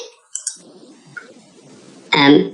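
A computer mouse clicks a few times in quick succession while modelling in Revit, sharp and close, with a faint soft rustle between the clicks and a brief louder burst at the end.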